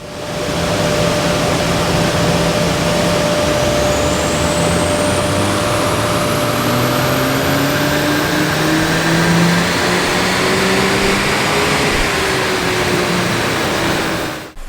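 A Mini F56 Cooper S strapped to a dyno in stock form, its engine pulling hard through a long, steady full-throttle run with rising pitch, loud and continuous with no talking.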